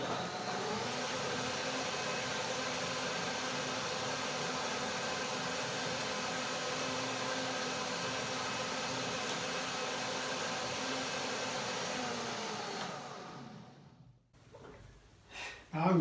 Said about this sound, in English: Short one, banana is easy to blend.